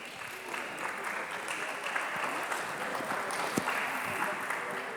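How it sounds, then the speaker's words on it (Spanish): An audience at a medical congress on osteoarthritis applauds to welcome a speaker: a steady, moderately distant patter of many hands clapping that continues for the whole stretch. "un aplauso"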